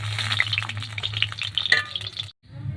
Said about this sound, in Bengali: তেলের ভিতরে আমি কাঁচা জিরা আর শুকনো লঙ্কা ভেঙে আর তেজপাতা দিয়ে দিচ্ছি